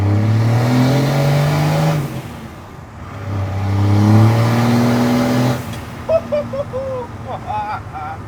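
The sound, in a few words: Cummins turbo diesel Ram truck accelerating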